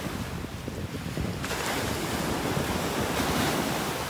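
Ocean waves break and wash along a beach during a morning walk, a broad rushing roar mixed with gusty wind buffeting the microphone, loud and continuous with no speech.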